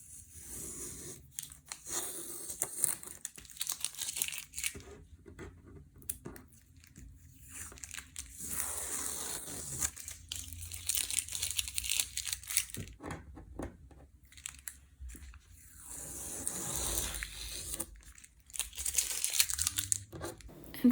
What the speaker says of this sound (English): And then I took off the washi tape.